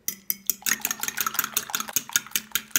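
Eggs with salt, chili flakes and black pepper are whisked briskly in a bowl, giving a fast, regular series of sharp metallic clicks and taps, close and clear with no talking.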